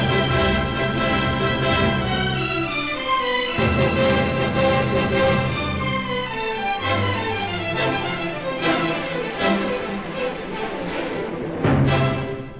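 An orchestra plays rapid rising and falling scales from Tchaikovsky's Symphony No. 6 that grow busier and faster into a whirlwind, full and loud throughout with no voices.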